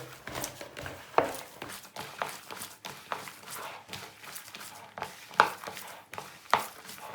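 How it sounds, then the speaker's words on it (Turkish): Minced meat mixed with onion, crushed garlic and cumin is kneaded by hand in a home kitchen, giving soft, irregular squelching and slapping pulses with a few sharper knocks against the bowl. "Şimdi bunu güzelce bir yoğuracağım"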